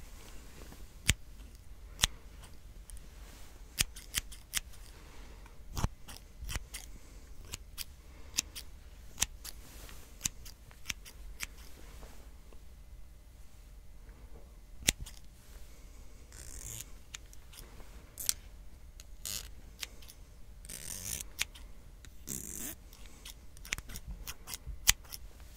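Scissors snip repeatedly close up during an ASMR haircut trim, with crisp, irregular metallic clips, some quick runs and some isolated, over a quiet background.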